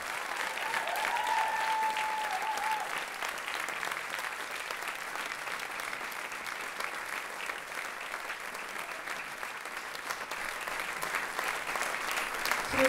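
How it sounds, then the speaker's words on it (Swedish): A concert audience at a refugee children's fundraiser applauds continuously, a sustained wash of many hands clapping at moderate distance, with a brief whistle-like tone early on. "Håll i applåden."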